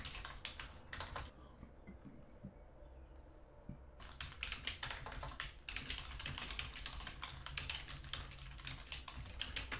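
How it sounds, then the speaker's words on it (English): Fingers type on a computer keyboard in quick, close clicking runs. The keys pause briefly near the start, then resume in a dense, steady patter. "all we do is start typing."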